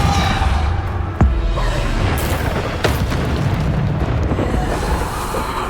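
Bombarda explosion spell in Hogwarts Legacy combat, a loud booming blast with a sharp crack and rumbling burst amid continuous dense game noise, no speech.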